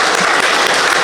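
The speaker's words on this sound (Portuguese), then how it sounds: "Para o Senhor Jesus uma linda salva de palmas." Dense, steady applause from a church congregation during a worship service, a continuous loud wash of clapping filling the short moment.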